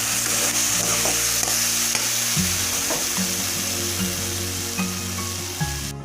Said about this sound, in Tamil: நல்லா வதக்கி விட்டுக்கலாம். நல்லா வதங்கினா போதும் ஃப்ரெண்ட்ஸ்.